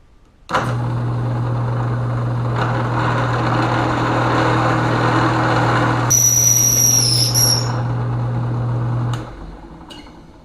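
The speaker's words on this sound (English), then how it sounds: "let's see if we can't drill this first" A drill press's steady motor drone runs for several seconds, joined by a high-pitched whine as the bit cuts in, then spins down and stops.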